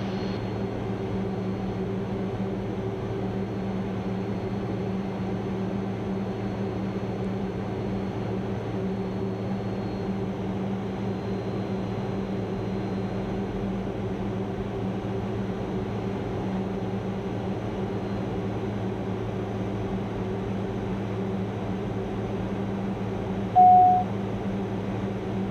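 A Cirrus Vision Jet on approach to Las Vegas McCarran International Airport fills the cabin with a steady, even engine drone that stays constant and moderately loud, with a brief tone near the end.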